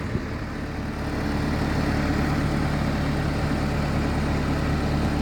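A Hyundai HY200C excavator engine idles nearby with a steady, low, droning rumble that holds constant throughout without any revving.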